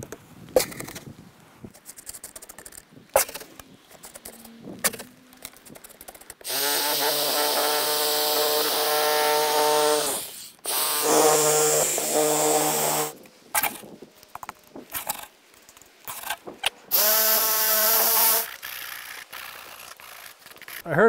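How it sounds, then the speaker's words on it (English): A bladeless Sawzall reciprocating saw is pressed against the sides of a concrete form to settle wet concrete, giving loud, harsh buzzing bursts of several seconds each, separated by quieter gaps with faint tapping and handling noise. "I'm going to hit the sides of the form with this Sawzall"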